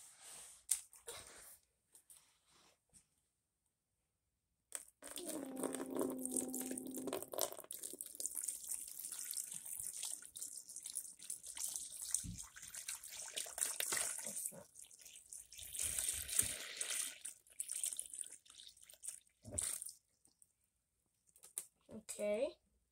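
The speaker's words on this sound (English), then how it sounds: "we're gonna be putting this water in here" Water pours into a container while lay boxes are being prepared, a steady splashing gush running for most of the stretch with a brief pause, set among quieter handling noises and occasional speech.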